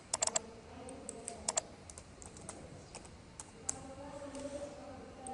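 Quiet, close clicks of typing on a computer keyboard while working in Easy Builder 8000 software, irregular bursts of keystrokes over a soft background hum.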